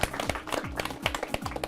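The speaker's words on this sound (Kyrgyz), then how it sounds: "Команда бир кол чаап коелу" A game-show team applauding together in a studio, a burst of many hands clapping in a quick irregular patter, close and lively, with no voices.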